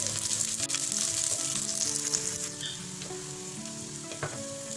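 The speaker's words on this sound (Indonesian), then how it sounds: "Saya masukkan bawang putih dan akan saya tumis sampai layu." Garlic sautés in hot oil in a pan, a steady close sizzle and frying crackle that stays loud throughout, with faint tonal music playing underneath.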